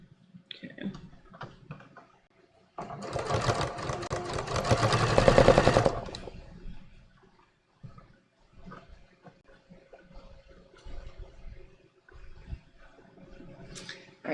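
A sewing machine stitches linen shorts at a long stitch length in one burst of about three seconds, a fast close rattle, with quieter handling clicks and fabric rustle before and after.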